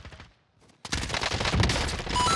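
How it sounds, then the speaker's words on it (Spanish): Gunfire in a Warzone match with Sykov pistols, opening with a few faint distant shots before a loud, rapid fusillade takes over and keeps going to the end. "Me dispara."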